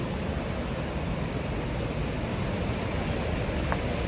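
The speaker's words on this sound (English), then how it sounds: "Rheinfall is what it's called, the Rheinfall, like Rhine waterfall essentially" The Rhine Falls waterfall pours with a dense, steady roar of rushing water, loud and unbroken from start to finish.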